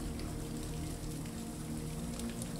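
Steady rain pattering on surfaces in a city setting, a dense continuous hiss of drops at even loudness throughout with no voices.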